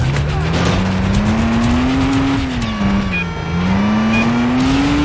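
Video-game car in Stuntman on PS2 throwing a handbrake turn, its engine droning steadily with a rising and falling pitch while tires squeal through the slide, loud and continuous for the whole stretch.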